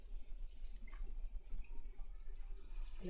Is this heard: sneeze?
no